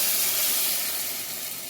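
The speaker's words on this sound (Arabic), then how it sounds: "وادي البتنجان بيتقلي" Eggplant for moussaka fries in hot oil, a steady loud sizzling hiss that holds evenly and fades slightly toward the end, with no voices.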